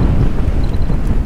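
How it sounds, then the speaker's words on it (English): Wind buffets the camera microphone during an e-bike ride across a bumpy field, a steady, loud low rumble with no break and no voices. "very windy"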